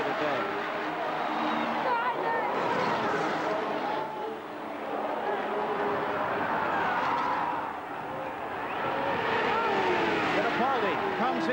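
Indy 500 race cars scream around the oval track in the 1989 race, their engine whines rising and falling as they pass, while a commentator talks throughout.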